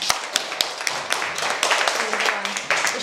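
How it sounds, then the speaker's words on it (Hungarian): Schoolchildren in a classroom clapping for a classmate who won a drawing contest, brisk uneven hand claps close by with some talk mixed in. "Akkor szerintem egy nagy tapsot megérdemel, ugye?"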